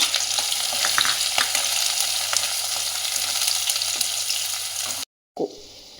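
Chopped onions fry in a pan with tempering of cumin seeds and two dried red chillies for paneer toofani, a steady close sizzle running for about five seconds before a brief cut, then quieter sizzling resumes.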